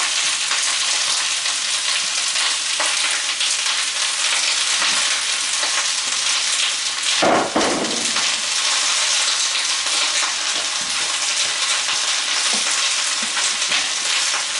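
Onions sizzling loudly in a hot, smoking pan for caramelized onion dip, a dense continuous hiss and crackle up close, with a brief sharper burst midway as they stir about.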